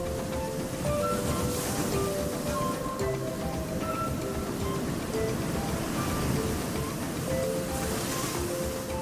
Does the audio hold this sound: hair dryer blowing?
no